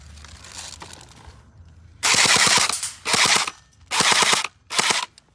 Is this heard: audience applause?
no